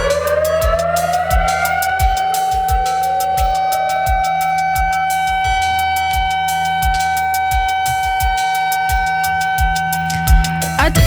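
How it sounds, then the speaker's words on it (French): Israeli civil defense siren sounding across the country at 11 a.m. on Yom HaZikaron, a steady sustained wail held loud and continuous, with rhythmic low thumps underneath throughout. "La sirène a une nouvelle fois retenti à 11h ce matin et le pays s'est arrêté"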